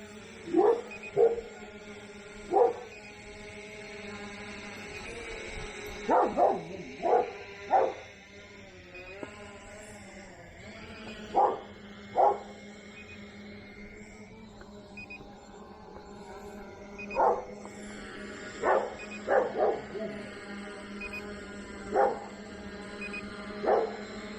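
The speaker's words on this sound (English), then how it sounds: "are you guys barking at?" Several pet dogs bark outdoors near a small quadcopter flight, sharp yips and barks in short clusters spread over the span, fairly close and loud against a steady background hum.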